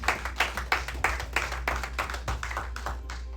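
A church congregation claps in an uneven, close rhythm, a steady run of individual hand claps filling the space over a low hum, with no talking.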